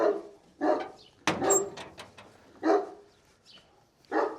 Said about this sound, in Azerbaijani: Burada da itlərimiz var.